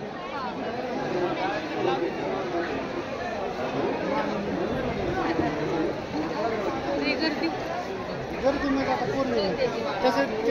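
Dense crowd chatter fills a packed Swami Samarth temple at Ganagapur or Akkalkot: many overlapping voices form a steady, close babble with no pause, plus occasional faint clopping and footsteps beneath.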